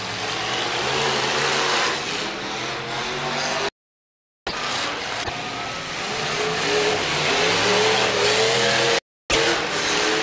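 Demolition derby cars run a figure-8 race at a championship night, engines revving and roaring loudly and continuously, with two brief dropouts in the sound.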